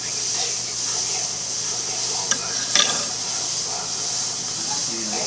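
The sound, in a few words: mini torch heating solder on a jewelry barrel catch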